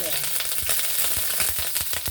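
Cooking oil frying in a pan while preparing kare-kare with tripe and pata, a steady close crackling sizzle with repeated short pops and stirring clicks, no talking.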